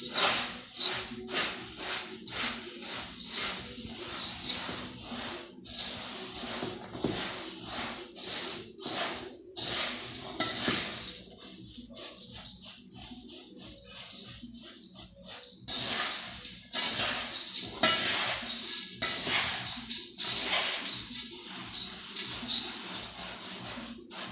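Murmura chivada, a puffed rice snack, is stirred in a pan in quick repeated strokes, each one a dry, crisp rustling scrape, keeping up a fairly steady rhythm at close range for the whole stretch.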